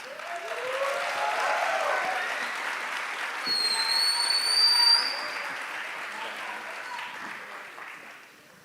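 Audience applause at a literary authors' panel in Araraquara, a steady broadband clatter of many hands that swells in the middle before tapering off, with faint high whistling tones drifting over it.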